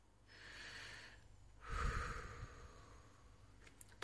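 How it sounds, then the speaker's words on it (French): Two slow, deep breaths taken close up, a hushed airy inhale followed by a fuller, louder exhale carrying a low rumble, then tapering into quiet room tone. "vous allez respirer profondément"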